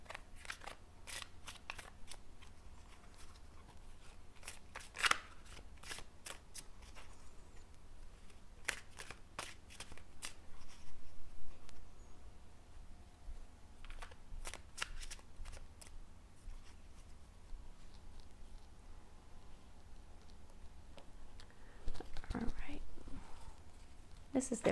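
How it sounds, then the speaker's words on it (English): A deck of tarot cards is shuffled in hand, a series of soft, quick riffling and flicking bursts spread irregularly across the stretch, close and fairly quiet against a hushed background. "I like to give them another little shuffle while I connect to your energy"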